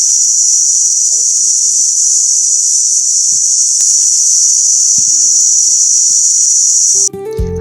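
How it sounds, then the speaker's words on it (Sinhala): Crickets near Mihindu cave in Anuradhapura keep up a loud, unbroken shrill drone in quiet natural surroundings. Faint scattered sounds sit beneath it, and it gives way abruptly to a different tone at the very end. "ඔයාලට තව ඉදිරියට මං අහන්න දෙන්නම්කෝ රැහැයියන්ගේ සද්දේ"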